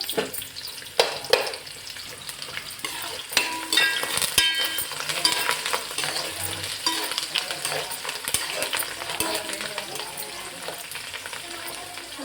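Onion and curry leaves fry in hot oil for a fish curry, a steady close sizzle with spatula stirring and scraping against the pan throughout, and a voice speaking faintly now and then.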